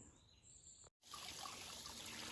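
Water trickles steadily at a rocky trail spring on the Appalachian Trail, a soft continuous babble that cuts out for a moment and then returns louder and close by.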